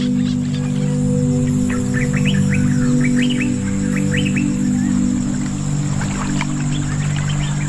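Birds calling in Yala, Sri Lanka: a flurry of quick, bright chirps and tweets at middle distance over a steady low hum and drone, with more scattered calls later.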